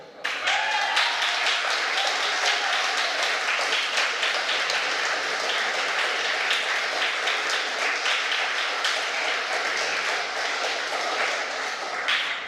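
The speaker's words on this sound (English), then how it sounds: "you know that's why you are clapping" An audience at a Green Party address applauds continuously, a dense, steady wash of many hands clapping that holds at an even level throughout.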